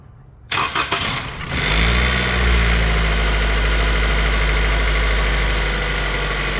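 A 2022 Toyota Corolla with repeated alternator failures cranks briefly with a few rapid turns, fires and settles into a loud steady idle that hums continuously to the end, close up with no talking.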